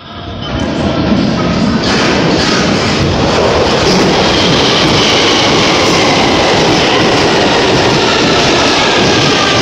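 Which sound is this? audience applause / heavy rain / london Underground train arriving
london Underground train arriving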